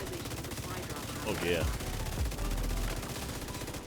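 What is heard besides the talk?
Pestilence gun shooting in the video game The Division 2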